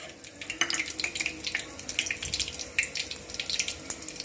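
Whole spices for chicken masala sizzle in hot oil in a pan, with dense, continuous crackling and scattered sharp pops of spattering at close range.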